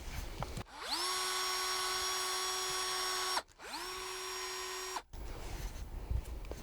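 A power drill whines at a steady high pitch through two sustained runs, each spinning up and cutting off abruptly, into wood at a German wine estate during harvest, with quieter handling noise before and after.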